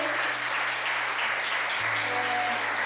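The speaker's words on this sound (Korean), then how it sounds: "수고했다고 박수해주세요" A church congregation applauds during a Sunday worship service in Daejeon, giving dense, even clapping that holds steady and fairly loud throughout, with no voices standing out.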